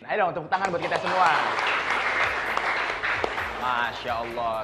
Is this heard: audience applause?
yes